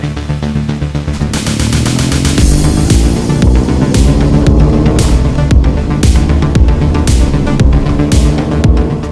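A loud, rising synthetic whine builds steadily as a Mercedes-AMG EQS53 4Matic+ electric car accelerates, layered with rhythmic pulsing tones and no talking.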